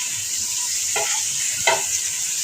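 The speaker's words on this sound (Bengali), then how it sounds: "আমি তেল দিলাম, পেঁয়াজটা একটু হালকা লাল করবো" Onions fry in hot oil for kacchi biryani, a steady bright sizzle running throughout with two short louder bursts of stirring or added ingredients near the middle.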